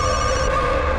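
A telephone rings in a brief steady electronic trill, moderately loud and alone with no voices.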